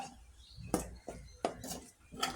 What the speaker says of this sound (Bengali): মাংসটা আমি চামিচ দিয়ে উঠিয়ে নিচ্ছি।